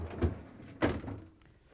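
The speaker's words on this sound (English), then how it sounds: "To get to the part, we need to open the freezer door." The freezer door of an LG/Kenmore refrigerator is opened, giving two soft, close thumps about half a second apart as the seal releases and the door swings, fairly quiet with no talk over it.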